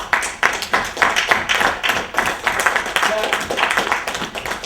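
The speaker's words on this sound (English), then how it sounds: "give yourself a round of applause" Audience at a talk by Dr Rashid on Black power giving themselves a round of applause: a smaller group clapping with distinct, rhythmic individual claps, close and fairly loud, fading slightly toward the end.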